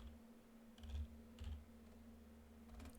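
Quiet typing on a computer keyboard while entering a restart command, a few soft clustered keystrokes over a faint steady electrical hum.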